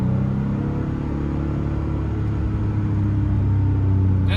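A deep, steady engine rumble idles close by, low and throaty with a constant mechanical drone and no voices, from a 1998 Porsche 911 Carrera S air-cooled engine with aftermarket mufflers.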